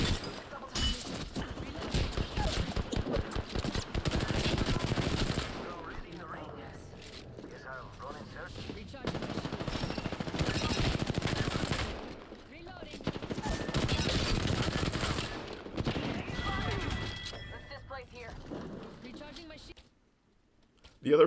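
Automatic gunfire from a primary weapon in the video game Apex Legends, rattling in loud sustained bursts with short gaps between volleys, later fading into quieter mechanical noise before near silence at the end.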